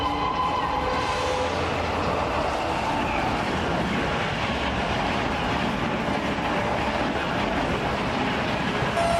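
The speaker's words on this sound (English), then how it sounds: "when a train approaches" A train approaches with a loud, continuous rumble and rolling clatter of wheels on rails, close and steady throughout.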